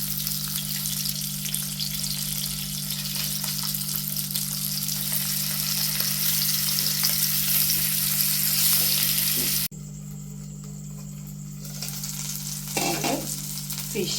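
Fish frying in a pan for a Thalassery-style fish stew, a dense, even sizzle that drops abruptly in level near the end, when the pieces are turned, with a steady hum underneath.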